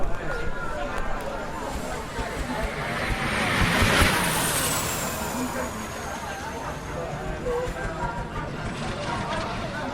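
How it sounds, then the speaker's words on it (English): The Lotus gas turbine racing car sweeps past at a hillclimb, a broad rushing whoosh that swells toward the middle and fades, with a high turbine whine trailing off over steady crowd and ambient noise. "That was the Lotus gas turbine car footing its way along."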